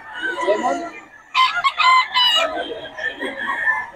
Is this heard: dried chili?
no